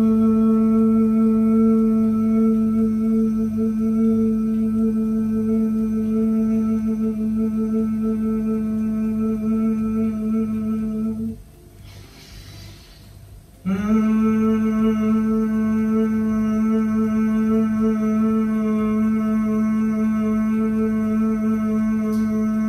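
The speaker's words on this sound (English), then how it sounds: "It can be a soft, low hum" Bhramari pranayama humming breath: a soft, low, steady hum held for about eleven seconds, a brief quiet inhale, then a second long hum, close and alone.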